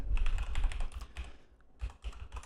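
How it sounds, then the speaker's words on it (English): Quick keystrokes on a computer keyboard while an email address is entered into a login form: a close run of rapid clicks, a short pause, then a few more taps. "So I'm typing some stuff. Let's see if I can type a valid email here."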